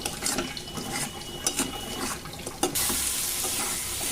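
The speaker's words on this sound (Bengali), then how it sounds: "এবার আমি মেটেটাকে খুব ভালো করে মশলার সাথে কষিয়ে নিচ্ছি।" Chicken liver is being cooked down with spices in a wok, heard as a close, steady sizzle with repeated scraping strokes of the spatula, then a more even hiss.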